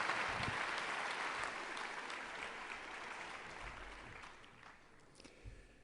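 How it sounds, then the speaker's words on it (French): Audience applause for a lecturer at a French conference on climate warming, a moderate steady clatter of many hands that slowly fades over several seconds, heard from a distance in a hall. "je vous propose également de l'applaudir"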